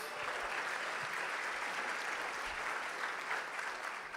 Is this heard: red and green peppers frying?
no